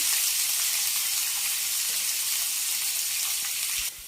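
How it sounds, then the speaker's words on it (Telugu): Onions frying in a pan for mushroom biryani, a loud, dense, continuous sizzle that drops off abruptly at the very end, with no talking. "ఉల్లిపాయలు బాగా వేగాలి."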